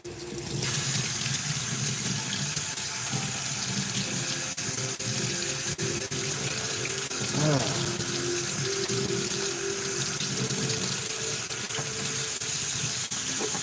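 A tap runs steadily and loudly throughout, rinsing soap out of a projection screen, a constant close hiss of flowing water with faint bumps.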